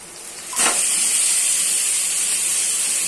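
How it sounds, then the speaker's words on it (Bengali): Marinated chicken hits a hot pan for a chicken ghee roast, bursting into a sudden loud sizzle that holds as a steady, close hiss with no talking. "চিকেনটা দিয়ে 10 মিনিট মতো কষাতে হবে।"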